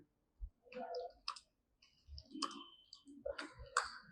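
Irregular clusters of keystrokes come from a computer keyboard being used to type lines of text in the Vim editor on Linux, with close, crisp clicks in short bursts separated by brief pauses.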